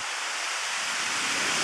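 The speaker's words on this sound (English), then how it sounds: "The waterfall continues down this way." Stewart Falls waterfall roars as a dense, continuous rush of falling water, close and steady throughout with no other sounds.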